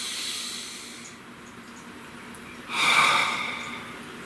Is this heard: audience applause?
no